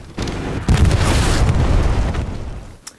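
A satchel charge detonates on a tank in Hell Let Loose, a loud booming blast that rolls on as a sustained rumble for a couple of seconds before tailing off.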